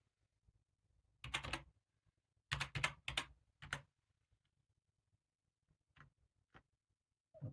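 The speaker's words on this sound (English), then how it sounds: "Type in the passphrase." Bursts of typing on a computer keyboard entering a passphrase during a Linux install, close and fairly quiet, with several clustered key runs separated by pauses and a few isolated taps near the end.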